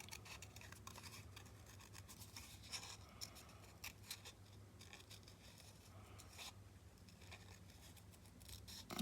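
Scissors snipping paper while cutting out pages for a mug-shaped journaling notebook, a steady run of close, soft crisp snips and scratches with no talking.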